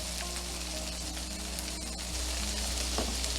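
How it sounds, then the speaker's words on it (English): Butter sizzling and crackling in a hot pan with partly cooked Swedish meatballs, a steady close frying hiss with no talk. "Now what I'm going to do is add 2 tablespoons of butter"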